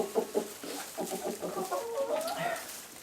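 Backyard chickens cluck and murmur close by in a run near a feeder, a steady chorus of short clucks and throaty calls without anyone speaking.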